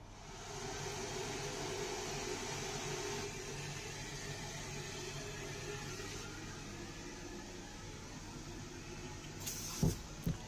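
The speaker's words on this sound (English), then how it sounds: "but the hand dryer is working" A steady, even whoosh of an electric hand dryer in an Israel Railways train restroom runs throughout, with a couple of brief clunks near the end.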